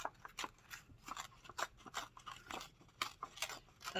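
Paper craft pieces for an industrial grunge accordion tag book are torn apart by hand in a quiet series of short ripping and crinkling bursts, close and faint, with no voices.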